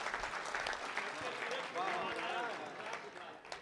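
At a mushaira poetry recital, an audience claps in a quiet, somewhat distant patter while voices call out and talk over it.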